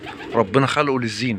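Fancy ornamental pigeons kept just for their looks coo softly and repeatedly close by, heard under someone speaking Arabic over them.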